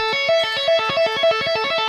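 Electric guitar taps out a quick, repeating three-note major arpeggio, clean and bright, cycling evenly with no voices.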